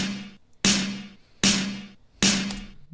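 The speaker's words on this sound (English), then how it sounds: "but here's what this first snare sounds like." Snare drum sample from a beat, four bright, noisy hits with a short ringing body, struck at an uneven spacing, alone and moderately loud.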